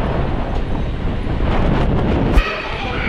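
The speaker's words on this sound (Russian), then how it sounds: "Тут я оставил специально звук ветра, чтобы развеять мифы о безветренной бухте Sharks Bay." Strong wind at Sharks Bay, Egypt, roaring as a loud broadband rumble straight into the microphone for the whole stretch, with one sharp buffet near the end.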